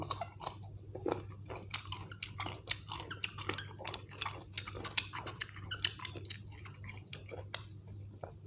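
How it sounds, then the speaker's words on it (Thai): Close, steady chewing of dragon fruit and mango dipped in a chili fish-sauce dip, with wet crunching bites repeating in an irregular rhythm over a low background hum. "มันนี่กินทั้งมะม่วง ทั้งแก้วมังกรพี่น้อง ทั้งสองอย่าง"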